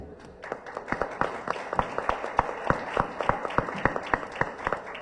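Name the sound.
audience applause welcoming Marta Cuevas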